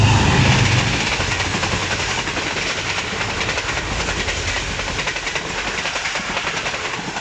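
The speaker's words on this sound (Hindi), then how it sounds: "ग्रीन लाइन एक्सप्रेस, जो कि कराची और मालगला के दरमियान चलती है" The Green Line Express, running between Karachi and Islamabad, passes through Sadhoke railway station with a loud, steady roar and hiss of wheels and carriages, a continuous rush of rolling stock close by throughout.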